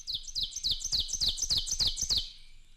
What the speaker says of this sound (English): One of these ovenbirds seems to say teach, teach, while his neighbor says teacher